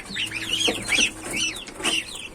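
A goose chick at a Turkish livestock market for sacrificial animals gives a quick run of high, rising peeping calls, close and fairly loud over a faint background murmur.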